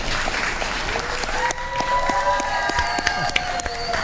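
An audience bursts into sustained applause, a dense wash of clapping that holds loud through the moment, with a faint voice and a few whistles over it.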